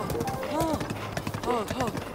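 Horse hooves clopping in the video game Breath of the Wild, quick rhythmic footfalls at a run, close and clear, mixed with someone talking over them.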